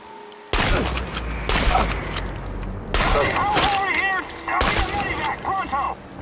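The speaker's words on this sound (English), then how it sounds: "I can literally shoot him point blank" Gunshots fired point blank in the Chernobylite video game, with an AK-wielding enemy: several loud, close bursts of gunfire in clustered volleys, with a voice speaking in between.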